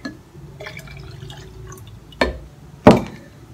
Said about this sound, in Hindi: इसमें हम डालेंगे खीरे का जूस